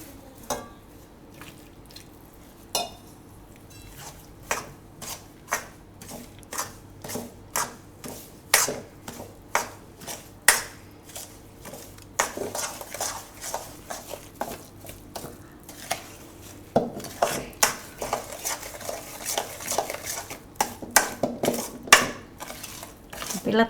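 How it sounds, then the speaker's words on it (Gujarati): Gulkand barfi mixture being stirred in a pot as milk is added a little at a time, with repeated clinks and scrapes of a spoon against the vessel, near and intermittent, growing busier toward the end. "આ થોડું થોડું દૂધ નાખતા જાઉં અને મિક્સ કરી લેવું"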